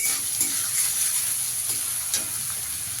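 Soaked Gobindobhog rice frying in a pan gives a steady close sizzle, with soft scraping stirs now and then and no talking.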